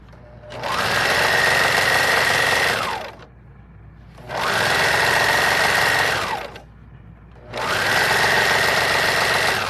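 A long-owned serger overlocks a pillowcase in three sustained whirring runs of roughly two to three seconds each, separated by brief quiet pauses. The machine is close and loud, with no talking.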